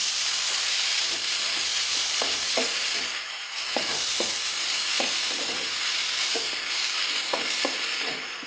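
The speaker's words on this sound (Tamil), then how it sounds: "வெங்காயம், கருவேப்பிலை, கொத்தமல்லி இதெல்லாம் நல்லா வதங்கும்." Onion, curry leaves and coriander sauté in a pan for kadamba chutney under a steady hissing sizzle, with repeated spatula strokes scraping at an even rhythm.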